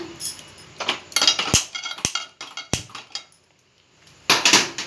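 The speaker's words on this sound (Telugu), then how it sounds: "స్టవ్ ఆన్ చేసి కొంచెం అంతా ఆయిల్ వేసుకుంది ప్యాన్లో" A pan and utensils are handled on a stove before oil goes in, with scattered metallic clinks, scrapes and sharp clanks in irregular bursts, close and fairly faint, separated by brief quiet gaps.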